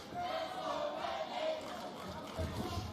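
Boxing arena crowd at a middleweight bout between Zhanibek Alimkhanuly and Denzel Bentley, a steady dense roar of voices with rhythmic group chanting swelling throughout, loud and continuous with no clear single speaker.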